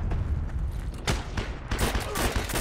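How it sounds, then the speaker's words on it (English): Rapid gunfire in the World War II shooter Heroes & Generals, dense overlapping shots and cracks in a loud, chaotic burst lasting a couple of seconds. "Oh, I'm being shot."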